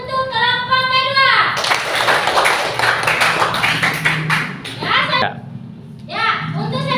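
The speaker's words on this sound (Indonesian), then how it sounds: "beri tepuk tangan untuk kelompok kedua" A classroom group of students claps for the second discussion group, a few seconds of scattered, uneven hand claps mixed with children's voices and chatter.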